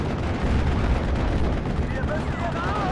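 Gunfire from an M7's .50 cal machine gun in Steel Division: Normandy 44, a dense, loud battle din of shots and booms under a speaking voice.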